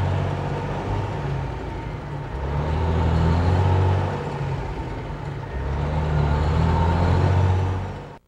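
A heavy truck with a ZF Meritor SureShift automated transmission pulls away after the brakes are released, its deep engine drone rising and easing in two long surges before cutting off, steady and close with no talk.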